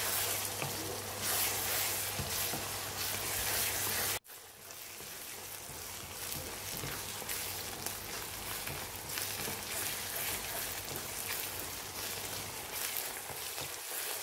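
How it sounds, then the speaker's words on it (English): Chopped onions sizzle and fry over high heat in a pan for Kashmiri mutton rogan josh, a steady close crackling hiss that briefly cuts out, then resumes with occasional stirring. "fry them until they turn a perfect golden brown and crispy, just like fried onions"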